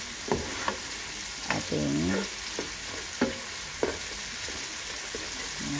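Green and yellow onions sauté in a pan with a soft sizzle, and a utensil taps and scrapes now and then, close and moderately quiet, with a short spoken phrase in the middle.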